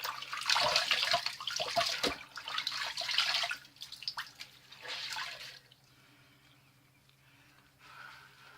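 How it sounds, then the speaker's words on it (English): Tap water splashes into a sink in soft, uneven bursts as a face is rinsed with hot and then cold water after a shave. The splashing is quiet and close, and it thins to a faint trickle over the last few seconds. "I'm gonna rinse off with a hot and then a cold rinse"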